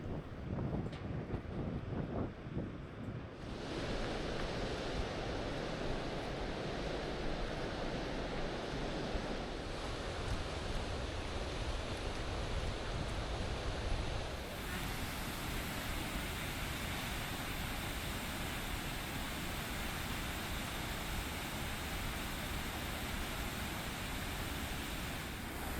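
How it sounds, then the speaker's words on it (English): Gullfoss waterfall in Iceland roars as a dense, continuous rush of falling water that gets louder and fuller as the listener moves nearer, mixed with some wind buffeting and no talking. "As you head down the stairs and along the trail, you get closer and closer to the falls."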